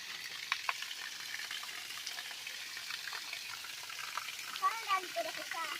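Water pours from a village tank into a small waterfall, a continuous close hiss and splash with a few brief clatters, and a voice speaks over it near the end.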